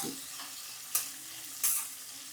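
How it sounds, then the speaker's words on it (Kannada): Slit green chillies frying in oil in a pan, a steady close hiss of sizzling broken by two sharp stirring scrapes. "ಜೊತೆಗೆ ಒಂದು ಎರಡು ಹಸಿಮೆಣಸಿಕಾಯನ್ನು ಸೀಳ್ ಸೀಳಿದ್ದೀನಿ ಜೊತೆಗೆ ಹಾಕ್ತಾಯಿದ್ದೀನಿ ಇನ್ನೂ ಸ್ವಲ್ಪ ಹೊತ್ತು ಎಣ್ಣೆ ಜೊತೆಗೆ ಮಾಡಿಸ್ತೀನಿ"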